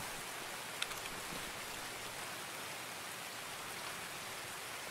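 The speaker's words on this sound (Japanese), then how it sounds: "雨うるさ。" Loud, steady rain pours down outdoors, a dense unbroken hiss that runs through the whole stretch, with one brief faint tap near the start and no talking.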